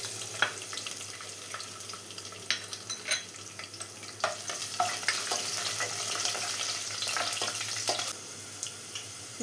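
Garlic and ginger sizzle steadily in coconut oil in a pan for a Kerala-style kadala curry, with a constant close frying hiss and scattered sharp spatters and stirring clinks throughout, no voices.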